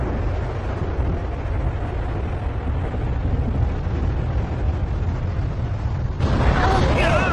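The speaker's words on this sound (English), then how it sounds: "It's a tsunami!" An animated tsunami wave crashes with a loud, continuous, broad roaring rush that swells abruptly near the end, where a strained vocal cry joins it.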